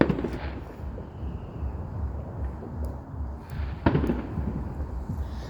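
Fireworks crackle and pop at a distance on bonfire night, with scattered sharp bangs, one louder burst near the end, over a low rumbling outdoor background.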